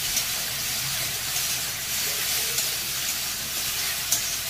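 Elephant apple (chalta) chutney sizzles in a pan over popped mustard, a steady broadband hiss with faint stirring scrapes and a couple of light clicks, close and continuous with no talking.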